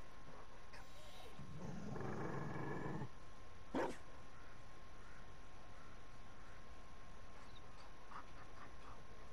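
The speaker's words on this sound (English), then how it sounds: "You found a dog." A Mabari war dog in the video game Dragon Age: Inquisition growls low for about two seconds, followed by a short sharp bark-like yelp, faint among quiet game ambience.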